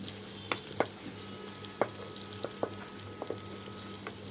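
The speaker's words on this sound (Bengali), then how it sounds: "পেঁয়াজটা ভেজে নিচ্ছি।" Chopped onions fry in a pan with a soft, steady sizzle, punctuated by a handful of light clicks from stirring, fairly quiet and with no talk.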